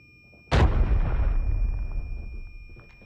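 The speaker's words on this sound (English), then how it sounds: "he's throwing nades" A grenade explosion in the video game Arena Breakout: one sudden, loud, close blast with a deep booming body that rolls and decays over a couple of seconds, alone without talk.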